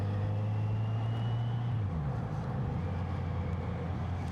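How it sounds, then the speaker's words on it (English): A steady engine drone heard while riding a 2026 Kawasaki Z900RS motorcycle on a main road in traffic, with a low tone that drops as it shifts, and a constant road rumble throughout. "Fair amount of traffic about today."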